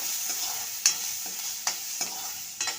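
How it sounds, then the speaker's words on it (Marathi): Onion sautéing in a little oil in a pan, a continuous close sizzle punctuated by a few sharp spatula scrapes and clicks spaced about half a second to a second apart. "यामध्ये टाकायचं थोडंसं अगदी तेल आणि कांदा परतून घ्यायचा आहे"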